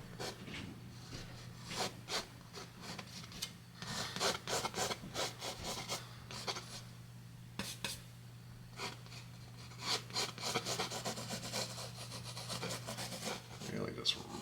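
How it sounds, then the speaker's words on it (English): A brush scrubs dark paint into canvas in repeated rough, scratchy strokes, close and quiet, rising and falling in irregular bursts over a faint steady hum. "This time I'm not scraping it off, you see, I'm just rubbing this in."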